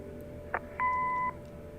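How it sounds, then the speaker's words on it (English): An answering machine in the Kathy Rain video game gives a short click, then a clear steady electronic beep lasting about half a second over faint background hum. "Leave a message after the beep"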